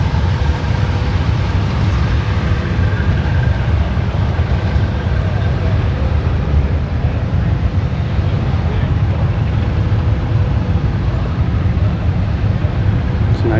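A vintage Case Spirit of 76 tractor runs at a farm show, giving a steady, loud low rumble that holds for the whole stretch, with crowd and other machinery noise mixed in.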